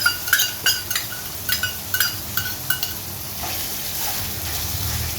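Bitter gourd curry stirred in a pan as tamarind juice is added, with repeated light scraping strokes in a steady rhythm over a soft sizzle, then a continuous frying hiss.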